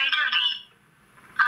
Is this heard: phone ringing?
yes